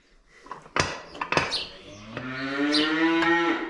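Cows in a tie stall barn moo nearby, one long drawn-out low call rising and holding, with clanking metallic knocks early on and no talking.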